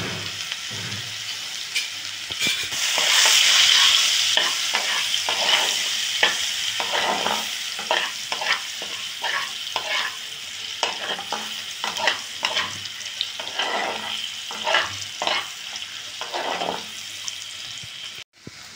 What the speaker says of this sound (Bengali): এবার গাজরটা ভেজে নিচ্ছি।